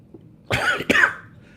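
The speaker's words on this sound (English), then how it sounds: "A little bit of a cough there." Two sharp coughs in quick succession, close and fairly loud, the second ending in a short raspy trail, with quiet before them, from a person eating an extremely hot chili nut.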